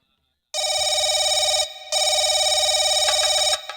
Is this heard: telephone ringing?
yes